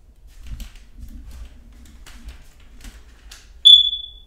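A smoke detector gives a single sharp, high low-battery chirp near the end, loud and close, after quiet footsteps and faint handling noises in a hallway.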